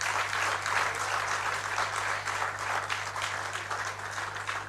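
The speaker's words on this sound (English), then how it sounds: "Please, a round of applause for Professor Kwesi Enin again." Sustained applause for a professor after a Republic Day public lecture on violent extremism and maritime issues, dense and steady throughout, with a low electrical hum underneath.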